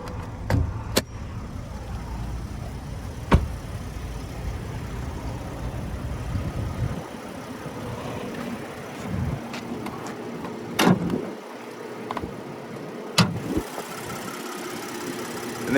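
The 3.8-litre naturally aspirated V6 of a 2022 Nissan Frontier Pro-4X idles with a low, even hum, joined by scattered clicks and thumps that grow sparser toward the end.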